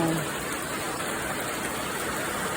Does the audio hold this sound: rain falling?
yes